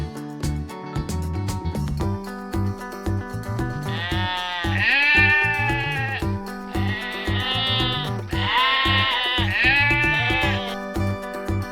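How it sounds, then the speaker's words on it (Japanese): A goat bleats repeatedly in wavering, nasal calls, several distinct cries spaced across the span, close and fairly loud over a steady musical backing. "Goat."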